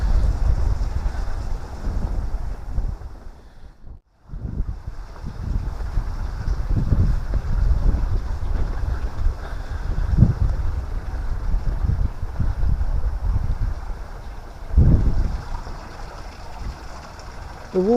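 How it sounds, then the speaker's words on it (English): Rushing water at canal locks on a cold, windy day, heard as a continuous low churning roar mixed with strong wind buffeting the microphone, with occasional louder gusts. "the water makes a funny noises, doesn't it?"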